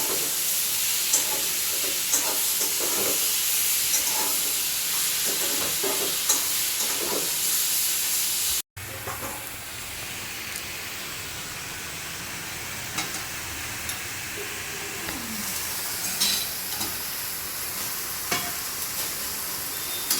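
Chicken sizzling and frying in a pan while being stirred, a constant close hiss broken by clinks and scrapes of the stirring, with no talk.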